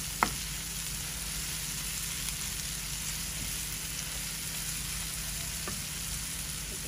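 Small bhula shrimp are fried bhuna-style in a pan, giving a steady dense sizzle with a couple of faint stirring knocks, close up and without voices.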